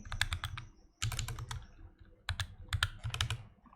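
Rapid bursts of computer keyboard typing while entering a variable value in a Python programming lesson, clicking in quick clusters with a short pause near the middle, close and fairly loud, with no voice.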